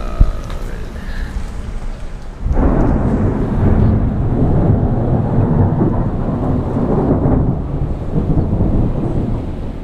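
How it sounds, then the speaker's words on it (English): Thunderstorm with rain: after a quieter start, a deep rolling rumble of thunder breaks in loudly and continues for several seconds over steady rain. "And it's lightning out."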